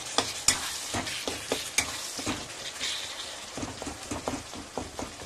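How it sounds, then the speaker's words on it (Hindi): Spices and tomatoes fry in a pan for palak paneer, a soft steady sizzle under repeated scraping stirs of a spoon, fairly quiet and close. "अब इसमें मैं सारे मसाले यूज करूंगी, टमाटर डालूंगी,"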